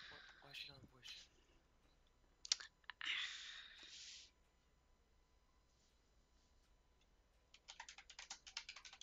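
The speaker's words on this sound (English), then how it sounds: "I will do my best to type out" Quiet clicking of computer keyboard keys in a bursty typing rhythm at the start and end, separated by near-silence and brief faint voice sounds.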